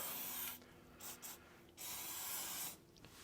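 WD-40 penetrant sprays onto parts during an oil service on a 2011-or-later 6.7 Powerstroke truck: a few short hissing bursts, close and fairly quiet, with no one talking.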